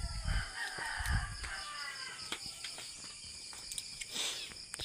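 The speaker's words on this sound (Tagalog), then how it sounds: "pakita ko po sa inyo yung mga alaga kong manok" Backyard pet chickens cluck while a rooster crows at moderate distance, with a steady chorus of crickets and insects buzzing throughout.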